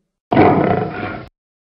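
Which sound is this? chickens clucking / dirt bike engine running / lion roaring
lion roaring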